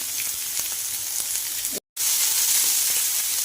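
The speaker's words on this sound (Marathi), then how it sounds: "कांदा पूर्ण लाल होऊन द्यायचा कच्चेपणा पूर्ण जाऊन द्यायचा" Onion and green chillies sizzle steadily in a hot pan for a bitter gourd stir-fry, a dense close frying hiss with a brief dropout in the middle and no talk.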